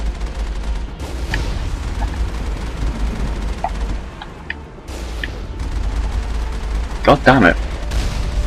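Rocket and gunfire in the video game Mass Effect on Virmire, repeated booming shots and blasts rolling over a steady battle din, with a sharp burst of impacts near the end and a man briefly swearing.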